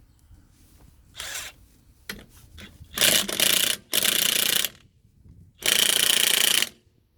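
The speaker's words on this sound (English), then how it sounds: "I'll go over with these with the torque wrench." A power tool, a DeWalt DCF899P2 impact wrench or DCF887 driver, working on bolts that are then to be torqued, in a few rattling bursts that grow longer and louder, the last lasting about a second, close up with pauses between.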